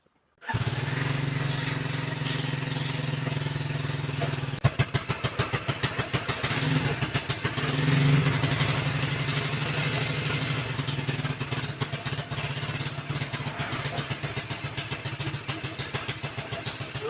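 A motorcycle engine runs steadily after its chain has been tightened, a loud, close, throbbing idle that continues for over fifteen seconds with small rises in revs and no talk.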